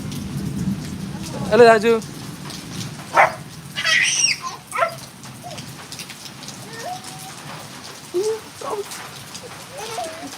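Rain falls steadily in a soft background patter, with a dog barking, bird-like calls and brief talk heard over it.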